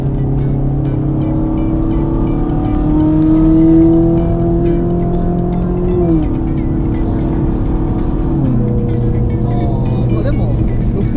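A Ferrari 458 fitted with an aftermarket Power Craft exhaust accelerates through the gears, its loud, high engine note climbing steadily with two brief drops at the shifts, close up and continuous, while people talk faintly over it.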